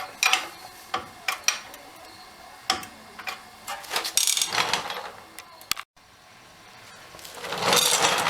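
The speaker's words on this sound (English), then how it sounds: "Bottom one I can use the ratchet on." A hand ratchet clicks in quick bursts while loosening caliper bracket bolts on the front brakes of a 2006 Ford F350 dually, with close metallic ratcheting and rustling of work and no talking.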